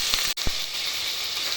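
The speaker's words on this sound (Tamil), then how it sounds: "வெங்காயம் வதங்கின்றது" Chopped large onion sizzling in hot oil in a single pot while cooking green peas pulao, a continuous close hiss with a brief dip and a couple of soft knocks near the start.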